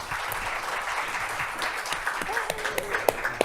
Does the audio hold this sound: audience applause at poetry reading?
yes